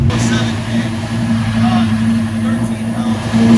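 A boosted Lamborghini engine runs hard on a dyno as a loud, steady, droning roar that swells slightly toward the end, with voices talking over it.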